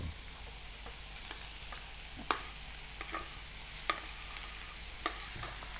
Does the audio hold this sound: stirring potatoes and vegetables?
yes